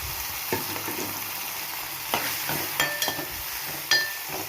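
Carrot pieces go into tomatoes frying in a pan, giving a steady sizzle with a few scraping stirs and soft clinks of a utensil against the pan, heard alone without voices.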